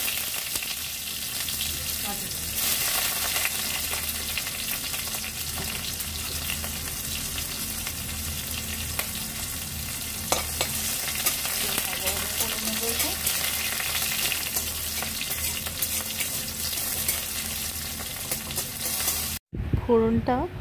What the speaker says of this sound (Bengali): তেলটা গরম হয়ে যাওয়ার পর দিয়ে দেব কালো জিরে, কাঁচা লঙ্কা, রসুন থেতো করে ফোড়ন দিয়ে দেব